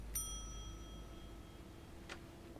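A single bright ding of a hotel front desk bell in The Wolf Among Us game, struck once and ringing out for about a second, followed by a faint click in a quiet room.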